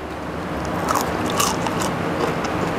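Teeth bite into fried vegetarian pork-style nuggets with a wheat-flour coating, giving close, crisp crunches followed by soft chewing, loudest around the first bite and continuing steadily, with no talk.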